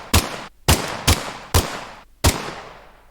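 Gunshot sound effect played in an Unreal Engine 5 sound cue for a multiplayer third-person shooter, five sharp, loud single shots spaced irregularly about half a second apart, each with a short decaying tail, alone without talking.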